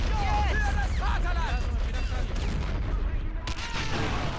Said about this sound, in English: Let's hit him again with our artillery then.